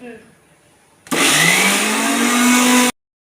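A mixer grinder starts up and whirs loudly and steadily for about two seconds, grinding coconut chutney, then cuts off abruptly into silence; quieter room sound precedes it.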